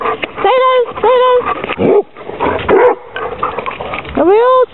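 A dog barks and whimpers in a run of rising, whining yelps and short barks, close and loud, with people talking over it.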